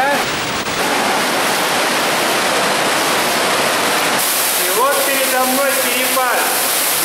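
A strong underground stream of water rushes through a tunnel, a loud steady broadband roar that fills the space, with a voice speaking over it near the end.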